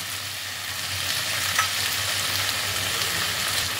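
Vegetables and green chilies frying in a pan, a close, steady sizzle with faint stirring and no talking.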